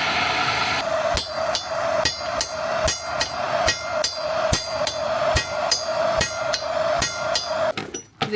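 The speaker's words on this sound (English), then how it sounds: "Plan B, tried the hammer." Steady metal hammer blows strike a stuck boat propeller, about fifteen sharp ringing clanks at a roughly even pace, close and loud, with no talking.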